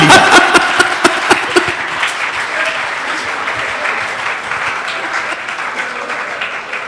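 Hindi comedy poetry gathering (hasya kavi sammelan) audience bursting into applause, a few sharp distinct claps at first, then a dense steady wash of clapping filling the hall, fairly loud and close throughout.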